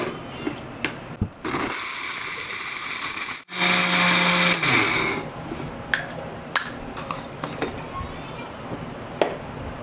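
A kitchen blender grinds whole biryani garam masala spices coarsely in two loud continuous bursts separated by a brief pause, followed by quieter tapping and handling clicks.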